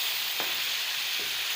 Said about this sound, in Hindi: ये दो और ये तीन चम्मच डाल के मैं इसको तड़का लगा रही हूँ।